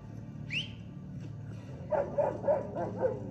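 A dog barks several times in quick succession, fairly faint and a little distant, after a brief high whine.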